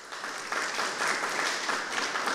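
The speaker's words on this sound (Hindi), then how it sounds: "सबसे पहले जोरदार तालियों से हमारे विशेषज्ञों का स्वागत करते हैं" Steady applause from an audience at a farmers' forum stage event, dense continuous clapping welcoming agricultural experts, moderately distant and even throughout with no voices on top.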